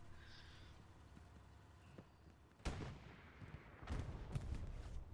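Tank cannons fire in the Hell Let Loose battle on Utah Beach, several distant booming shots with sharp onsets and rumbling tails. A few irregular blasts come after a quieter stretch, faint overall with battlefield noise.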